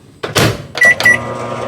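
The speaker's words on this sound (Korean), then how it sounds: "근데 여긴 지금 냄비가 없는 상태라 가지고 전자레인지에 돌려 먹어요. 한 40초 정도." A microwave oven heating a drink of black goat extract for about 40 seconds makes sharp clunks as it is set, then two short electronic beeps, all close and clear.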